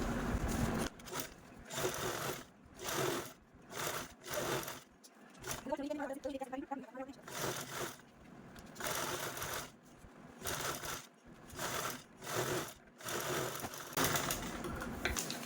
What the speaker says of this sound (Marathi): इकडच्या साईडने झिप आहे ती स्टिच करून घ्यायची आहे